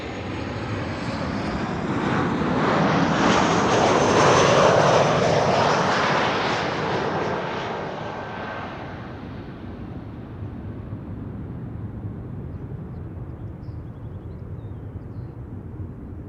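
A Boeing 737-700 jet arriving from Bucharest at Amsterdam Schiphol roars past, its engine noise swelling to a peak and then fading into a steady distant rumble, with no talk.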